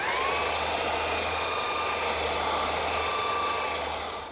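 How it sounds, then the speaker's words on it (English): A belt sander runs steadily across a glued wood panel for a chair table, a constant close whining roar with a high hiss that holds level throughout and tapers off at the very end. "now I'll smooth it all out with my belt sander"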